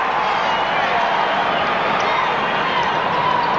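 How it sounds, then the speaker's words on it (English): Capacity crowd murmuring in the arena before a 1989-90 Lakers at Chicago Bulls basketball game, a steady, loud roar of many voices with light clapping, under a commentator talking. "Capacity crowd on hand"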